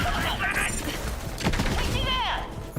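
Gunfire from a charge-up weapon in Borderlands 3, a dense burst of shots and mechanical clatter over busy game sound and music, with a player's voice talking over it.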